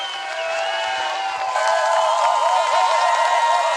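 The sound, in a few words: crowd cheering for skier Justyna Kowalczyk in Poland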